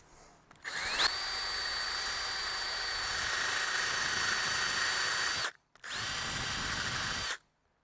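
A handheld power tool strips rust from a 1972 Chevelle, spinning up with a rising whine and grinding loudly up close, pausing briefly before a second run that then stops.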